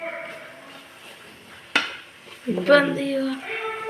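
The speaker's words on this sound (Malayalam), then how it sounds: "ഉള്ളി തക്കാളിയൊക്കെ വയറ്റിക്കൊണ്ടിരിക്കുകയാണ്" Onion and tomato sautéing for chicken biryani, a sharp clatter of a utensil on the pan followed by a burst of sizzling and stirring, with a voice faintly in the background.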